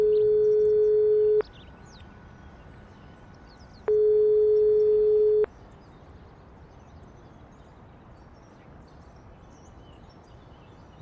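Unanswered phone call in the video game Broken Sword 5: two steady electronic ringback tones, each about a second and a half, separated by a pause, over a faint ambient hum with no talk.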